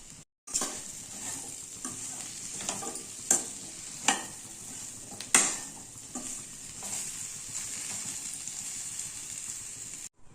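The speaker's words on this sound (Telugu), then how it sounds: "ఇప్పుడు దీనిలోకి స్వీట్ పొటాటో ముక్కలు వేసుకొని కొంచెం సాల్ట్ యాడ్ చేసుకొని బాగా కలిపి మూత పెట్టుకోవాలి." Sweet potato pieces with salt sizzle in a pan, punctuated by several sharp knocks and scrapes of a spoon stirring, steady hiss underneath and no talk.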